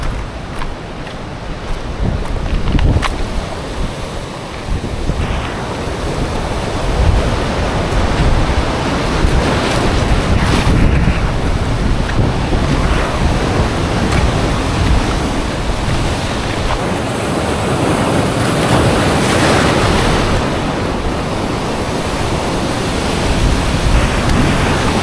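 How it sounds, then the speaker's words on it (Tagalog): Strong sea waves crashing and surging with gusting wind buffeting the microphone along a shoreline where people are fishing, a loud continuous roar lasting throughout. "Lakas ng alon eh."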